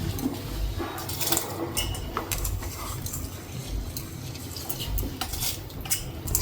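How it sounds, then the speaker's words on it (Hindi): Washed rice tipped into a pot of milk on low heat for gur kheer, heard as a run of clattering, clinking metal-utensil and pot sounds, fairly close, with no talking. "ये देखिए, चावल दूध में ऐड कर दिया है।"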